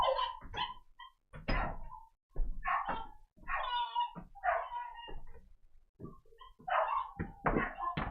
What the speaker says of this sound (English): we're going to have freaking out dogs